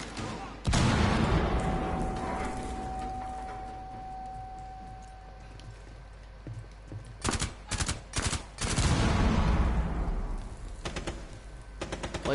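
Gunfire in Rainbow Six Siege: a loud opening burst that rings off, then a quieter lull, then rapid staccato volleys of shots close by, with voices talking in between.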